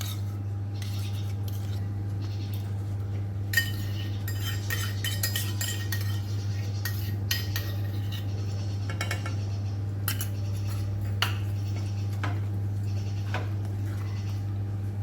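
A spoon clinks and scrapes in a pan as cream is stirred into masala for homemade kadhai paneer, in irregular bursts over a steady low hum, with no voices.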